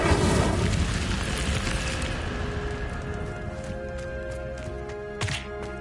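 An Incendio fire spell cast in Hogwarts Legacy: a loud fiery burst opens, then a roaring rush decays over a few seconds into a low residual crackle, with a short thump near the end.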